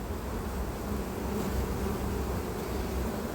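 Honeybees buzz in a dense, continuous drone on a hive frame, close and steady throughout with no other sounds.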